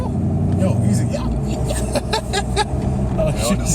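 A car driven through snow hums along with road noise and a low engine drone while people talk over it, with occasional brief rattles and bumps.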